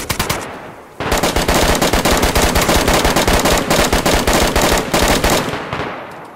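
DayZ video game gunfire: after a brief burst, a long sustained stream of rapid automatic shots rings out loud and close, with a short break near the end before tapering into echo.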